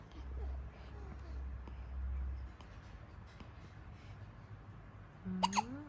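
A small child gives one short, voiced hiccup near the end, a quick pitched catch after several seconds of faint room hum.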